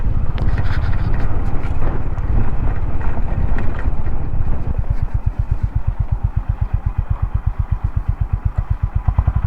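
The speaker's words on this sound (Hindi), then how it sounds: "हवा बहुत तेज़ है सामने से" Strong headwind buffets the microphone in the Spiti valley, loud and roaring, joined midway by the rapid close putter of a motorcycle engine that continues to the end.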